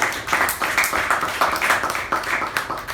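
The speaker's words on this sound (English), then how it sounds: "A round of applause for the TABG team, who did a wonderful job." An audience at a club meeting applauds the TABG team with a dense, continuous patter of many hands clapping together, fairly loud and even throughout.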